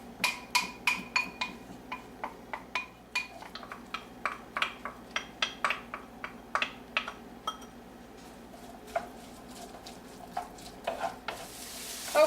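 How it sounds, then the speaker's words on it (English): Aromatics sweat in a pan over medium heat, giving a soft, low sizzle beneath a steady run of close utensil scrapes and taps from stirring throughout. "We're just going to sweat these aromatics until they are nice and fragrant and a little bit translucent."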